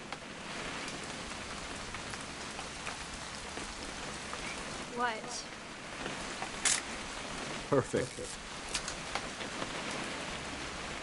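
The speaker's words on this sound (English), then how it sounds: "It's gonna rain the whole weekend, isn't it?" Steady rain falls in the video game What Remains of Edith Finch, a soft, even hiss throughout with a few faint patters, while voices speak over it.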